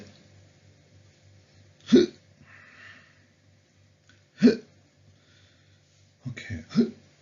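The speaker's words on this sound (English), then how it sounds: "Okay, I think I've got hiccups." A person hiccups indoors, three or four sharp, abrupt gulps spaced a couple of seconds apart, the last two coming in a quick cluster, with near silence between them.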